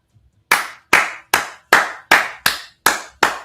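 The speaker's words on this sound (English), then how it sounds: "Clap it up for that man" Eight sharp hand claps from a single person ring out in a steady, evenly spaced rhythm, each crisp and close with a quick decay, after a brief quiet start.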